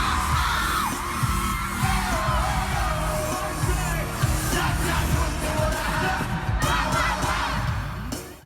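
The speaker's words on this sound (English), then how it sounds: "You can literally hear me screeching in the back" A fan screeches amid a roaring, continuous crowd at a concert in Los Angeles in 2018. The shrill cheering and yelling blend into loud, dense arena noise throughout.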